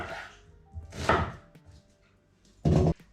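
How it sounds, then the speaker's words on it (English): A knife chops through onions, halving and quartering them on a cutting board, with three distinct crunching cuts spaced apart in a quiet kitchen. "I'm just gonna half the onions and then quarter those halves"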